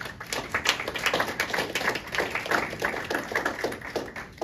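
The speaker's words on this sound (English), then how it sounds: "give him a round of applause" Scattered hand clapping from a small audience at a veterans recognition ceremony, individual claps distinct and fairly close, with an uneven, pulsing rhythm.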